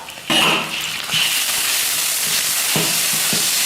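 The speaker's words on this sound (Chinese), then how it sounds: "锅里倒点油，下入葱姜蒜，炒香以后加一勺豆瓣酱" Scallion, ginger and garlic hit hot oil in a wok with a sudden loud sizzle, then keep frying steadily while a utensil knocks and scrapes against the pan a few times.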